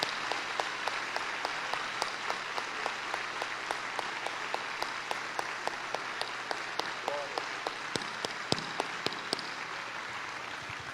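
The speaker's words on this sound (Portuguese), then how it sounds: "Vamos aplaudir o nosso Deus por tudo isso?" A church congregation at a national seminary gathering applauds, a long, steady wash of many hands with sharp individual claps standing out, somewhat distant and moderate in level for about eleven seconds.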